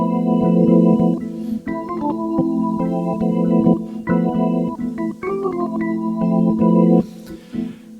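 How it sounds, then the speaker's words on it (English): Jazz organ patch on a Roland Fantom virtual tonewheel organ: sustained chords with short percussive attacks and melodic movement, played steadily and loud with no voices. "that's a basic jazz organ kind of a sound"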